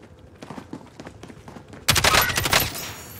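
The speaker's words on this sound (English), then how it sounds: "I'm taking fire." Gunfire in a battle royale video game: quiet scattered footsteps and small sounds give way to a sudden loud, rapid burst of automatic shots that keeps going to the end.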